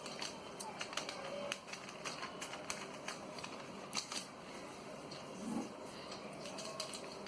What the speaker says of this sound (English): Fold the other edge and fold it into the half.